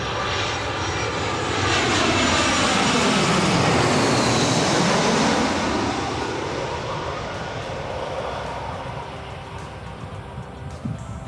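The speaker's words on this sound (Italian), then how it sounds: "Ho visto anche l'atterraggio di un aereo in diretta" An airplane comes in to land at the Treviso airport, heard from a gravel bike route along the Sile river. A loud engine roar sweeps past overhead, peaks, then slowly fades into the distance.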